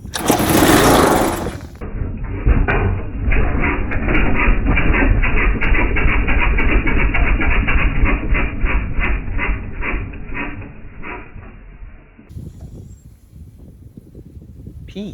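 A pressure washer's small engine, its carburetor just sprayed, is pulled and fires, running in a loud, rough, rapidly pulsing putter for about ten seconds before dying away into quieter handling noises.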